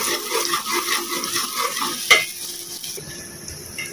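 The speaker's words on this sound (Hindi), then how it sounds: "हम इसमें प्याज डाल रहे हैं, जब प्याज जरा सुर्ख हो जाएंगे" Onions frying in oil in a pan for kofta curry give a loud, dense, continuous sizzle with stirring scrapes, then a sharp metal clank before the hiss drops to a quieter, thinner fizz.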